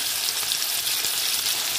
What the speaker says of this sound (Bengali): চিংড়ি মাছগুলো ভেজে নেবো